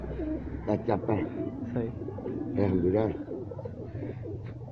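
Pigeons coo with repeated soft, throaty warbling calls close by in a loft, while people talk over them.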